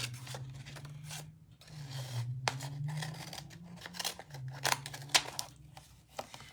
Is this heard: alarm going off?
no